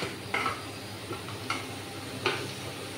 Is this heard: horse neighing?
no